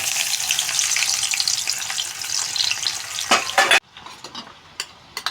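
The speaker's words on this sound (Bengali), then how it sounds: "ওই তেলেই বন্ধুরা পেঁয়াজ ছেড়ে দেবো" Onions dropped into hot oil left from frying mushrooms, a loud bright crackling sizzle that cuts off abruptly near the end, followed by quieter scattered clinks and pops.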